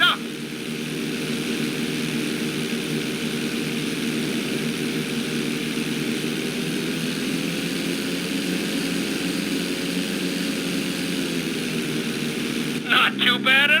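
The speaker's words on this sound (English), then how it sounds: "Roll the plane right side up." In Grand Theft Auto V, a propeller plane's engine hums loud and constant during a flight school roll maneuver, its pitch easing slightly midway, with a brief burst of other sound near the end.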